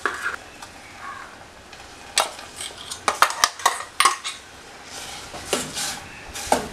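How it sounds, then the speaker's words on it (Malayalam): Ground coconut, mustard seed and cumin paste being stirred into ridge gourd cooking in a pan, with a spoon scraping and clinking against the pan in several sharp bursts over a faint background sizzle. "തേങ്ങയും കടുകും ജീരകവും കൂടെ അരച്ച് വെച്ചിരിക്കുന്നത് ഇതിനകത്തേക്ക് ചേർത്ത് കൊടുക്കാം."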